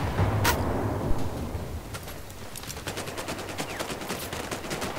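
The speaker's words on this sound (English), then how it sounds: "Please tell me you're the one shooting at me." Gunfire in the multiplayer shooter Battlefield 4: a sharp shot at the start, then rapid bursts of automatic fire crackling steadily, fairly close and moderately loud, with no talk.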